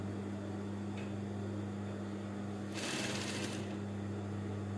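A sewing machine stitches a thick folded fabric hem for a child's ball gown, its steady low motor hum running throughout with a short louder whir of stitching near the middle.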